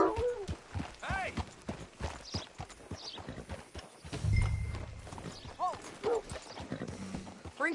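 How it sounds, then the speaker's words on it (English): Horse hooves in Red Dead Redemption 2 clip-clop at a slow walk beneath conversation between characters, a light, uneven clatter with a low thump partway through. "Hitch your horse up here."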